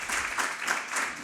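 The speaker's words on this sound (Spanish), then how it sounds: "Un aplauso para nuestro ponente" An audience applauds a speaker at the close of a talk at a community coexistence debate panel, a dense steady wash of clapping hands throughout, moderately loud and with no voices over it.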